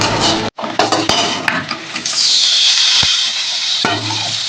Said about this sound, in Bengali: এবার আমি একটু ভালো করে বড়িটাকে একটু ভালো করে ভেজে নেবো।